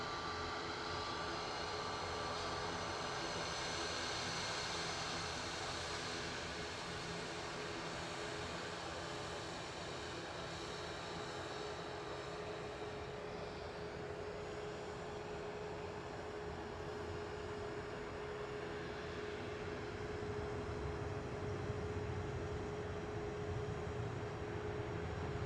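A Virgin Atlantic Boeing 777 arrives at Manchester Airport, heard as a steady, broad distant jet roar with a faint tonal whine, swelling slightly near the end, with no voices.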